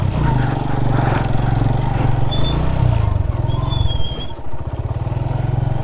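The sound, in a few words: motorcycle engine running while parking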